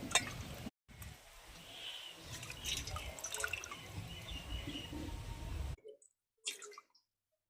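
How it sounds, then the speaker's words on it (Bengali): Ripe mangoes are rubbed and swished by hand in water, giving soft splashes, drips and squishy sloshing at close range, ending in a near-silent gap with a final faint splash. "আমগুলো এভাবে ভালো করে গাটা দলিয়ে দলিয়ে ধুয়ে নেবো"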